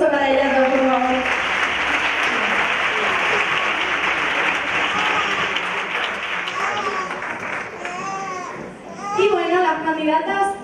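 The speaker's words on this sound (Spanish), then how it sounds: "Fuerte aplauso para ella, todos, por favor." Loud audience applause fills a theatre at a beauty pageant final, with voices and cheering mixed in and a child's cries rising as the clapping fades toward the end.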